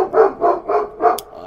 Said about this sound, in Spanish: que este perro me va a quitar la vida